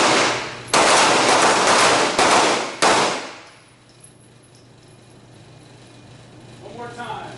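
Handgun shots at a night shooting class, a rapid volley of loud close gunfire lasting about three seconds, then ringing quiet with faint background noise.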